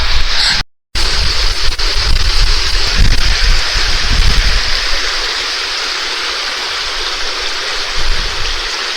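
The Héric river flows through the rocky Héric gorge in the Caroux massif, steady broadband rushing water heard close and loud throughout, with a brief dropout near the start.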